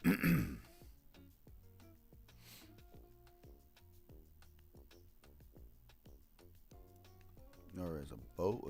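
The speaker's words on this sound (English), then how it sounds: "I gotta keep clearing my throat." A man clears his throat, a rough burst at the start and another near the end, while a game plays quietly in the background with ticking, tonal music. No clear words are spoken.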